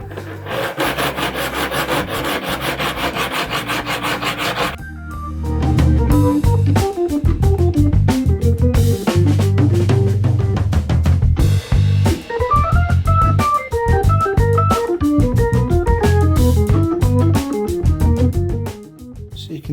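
A coarse rasp is worked over a wooden guitar fretboard, producing loud, close, continuous scraping strokes in a steady back-and-forth rhythm with a brief pause partway through.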